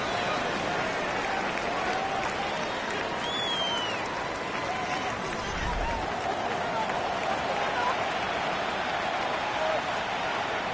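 Football stadium crowd cheering during a third-down play, a broad steady roar that stays loud and even throughout with no clear peaks.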